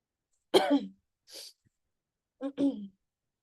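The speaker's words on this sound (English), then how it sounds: "for like constantly coughing and all" A teacher who is feeling unwell during a Grade 11 maths class coughs sharply, a single cough followed after a pause by a softer one and then a quick double cough, in an otherwise quiet room.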